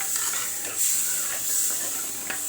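A spoon stirs fish curry gravy in a pan over a low gas flame, giving a soft, steady sizzle and hiss with light scraping strokes, moderately close and without talk.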